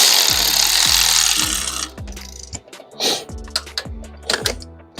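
T25 Torx bolts being snugged down on a BMW 550i valve cover: a loud, rough rumble at first, then sparse close clicks and scraping taps as the tool works.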